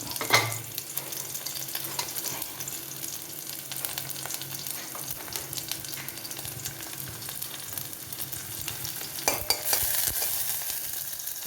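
Garlic and onion frying in oil in a pan, a steady soft sizzle with occasional stirring scrapes and a brief louder burst near the end, no voices.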